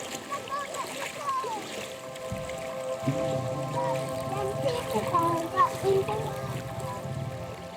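Rain falls outdoors near water and a parked car, a steady soft patter with scattered splashes that runs throughout, with faint voices in the background.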